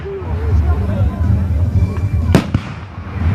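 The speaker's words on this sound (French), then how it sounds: "Ah ouais, mais lui, il fait des pétards aussi." Bastille Day fireworks and firecrackers pop at a distance, with one sharp loud blast and scattered smaller bangs under nearby chatter from people in the crowd.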